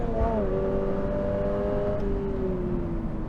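A new 2022 Toyota GR86 runs a lap at Monticello, its engine note droning loud and close, then easing slightly in pitch as the revs settle, with a steady road and wind roar underneath.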